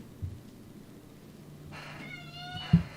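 A cat gives one drawn-out, wavering meow, fairly close and clear over a quiet room, with a low hum and a soft thump near the end.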